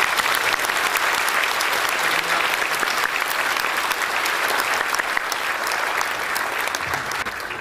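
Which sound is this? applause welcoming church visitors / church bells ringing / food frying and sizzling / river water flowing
applause welcoming church visitors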